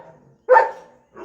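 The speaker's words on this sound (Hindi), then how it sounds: "क्यों भौंक रहे हैं ऐसे, क्यों भौंक रहे हो" A dog lets out a single sharp, close bark, followed by a softer short yip or whine, with a faint murmur before it.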